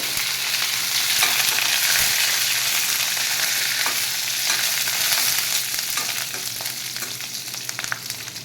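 Green chillies, curry leaves and dry red chillies crackle and sizzle in hot oil for a Telugu beetroot tempering, a steady dense frying hiss with light stirring scrapes throughout, no voices.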